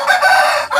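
A fighting rooster crows once, a loud, close, brief call that fills the whole moment with no other sounds around it.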